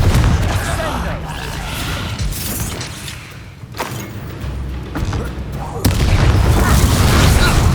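A Confringo spell explodes during a wizard duel in the Hogwarts Legacy video game, giving a loud booming burst over dense game sound effects, with a sharp blast near the end; voices speak around it.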